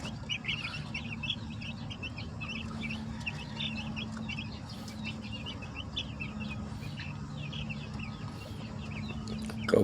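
Young chicks peep in a continuous, fairly faint high chatter over a steady low hum, heard at a moderate distance with no talking.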